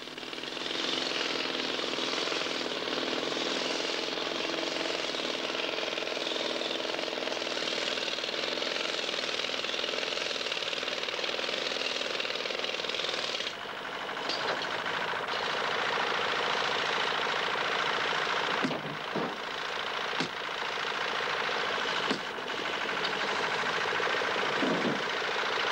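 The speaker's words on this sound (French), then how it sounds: "Le ciseau est remplacé bien souvent par le marteau pneumatique." A pneumatic hammer cuts stone in a Breton stone carver's workshop in Guerlesquin, hammering in a loud continuous rattle with a few brief pauses and sharp breaks later on.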